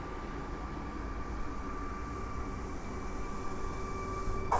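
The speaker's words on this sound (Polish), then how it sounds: "Wjeżdża pociąg osobowy do Błonia." Passenger train pulling into the station at Warszawa Włochy, a low rumbling roar with a faint tonal whine, distant to moderate and slowly building, with open-air wind noise around it.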